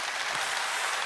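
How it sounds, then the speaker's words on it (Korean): An audience at a corporate presentation on an Atomy Absolute Selective product made with Kolmar Korea gives a brief burst of steady, dense applause, filling the whole moment with no speech. "박수 한번 주세요"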